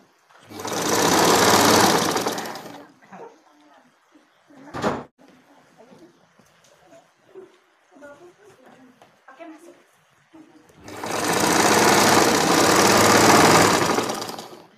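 A black Singer Butterfly sewing machine stitches a bedcover in two loud, fast, continuous runs, with a quieter pause between them in which someone speaks and a short knock is heard.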